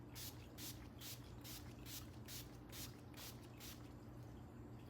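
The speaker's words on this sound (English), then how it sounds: "now I'm just gonna spray it with the all-nighter again." Setting spray is misted over a face in a rapid series of about ten short, even hissing puffs, close and soft, over a steady low hum.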